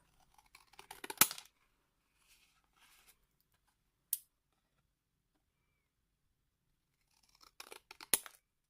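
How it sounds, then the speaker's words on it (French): Scissors snip through watercolor paper while cutting out heart shapes for bookmarks: a quick cluster of crisp cuts, a single sharp snip a few seconds later, then another flurry of close snipping at the end, with quiet pauses between. "je vais venir après découper"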